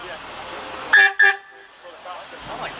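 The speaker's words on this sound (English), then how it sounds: "We got battle of the horns." Two short, loud horn blasts in quick succession, nearby and tonal, stand out over low background noise; a voice talks faintly afterward.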